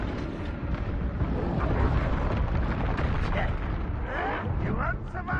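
A fiery blast from the Confringo spell in Hogwarts Legacy, a loud rumbling explosion that rolls on over several seconds amid continuous game effects, with a voice speaking through it.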